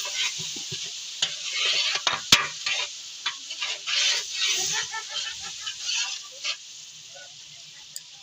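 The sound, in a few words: stirring biryani masala, red chilli and salt into pot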